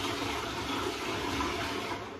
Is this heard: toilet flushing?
yes